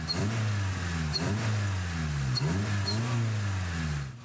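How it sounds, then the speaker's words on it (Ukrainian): A three-wheeled tuk-tuk auto-rickshaw engine rumbles steadily, with a low throbbing idle that rises and dips in a few revving swells, close and continuous with no voices. "Це гуркоче двигун зовсім не надпотужного спортбайка, а моторикші. Або тук-тука"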